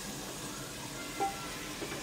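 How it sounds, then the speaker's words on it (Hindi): Mutton browning with ginger garlic paste in a pan over high flame, giving a steady, soft sizzle and faint stirring scrapes at a low, even level with no talk. "इसके साथ में तकरीबन 2 मिनट के लिए गोश्त को भून लेंगे अच्छी तरीके से"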